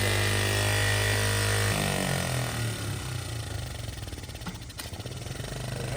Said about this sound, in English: Well, we got the Z50 chopper running and riding again for a brief period.